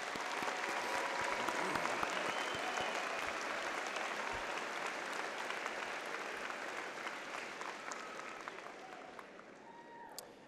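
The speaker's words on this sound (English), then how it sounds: "I want you to give yourself a round of applause" Graduates and guests applaud at a university business school spring commencement, a large hall filled with steady, dense clapping that holds for about ten seconds and slowly eases, heard from some distance.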